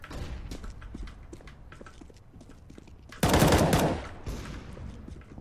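A Negev machine gun fires in a video game, delivering one loud, rapid sustained burst of close shots after quieter scattered clicks and footsteps.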